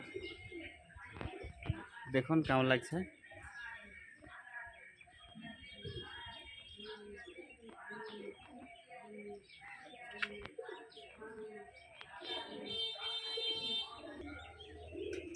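Andhra pigeons, a male and a female among them, coo softly close by in scattered low calls, with a person talking over them and a brief louder burst near the start.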